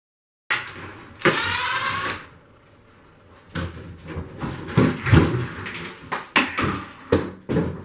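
A stained glass window panel is unscrewed from a wall, with a burst of whirring from a powered screwdriver followed by a series of close knocks and clunks.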